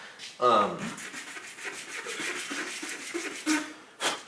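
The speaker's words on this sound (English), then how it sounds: "my machine marks are being sanded off here" Steady back-and-forth sanding rasps on a lap steel nut blank, smoothing off machine marks as the rhythmic strokes continue close by, with a couple of brief voiced sounds in between.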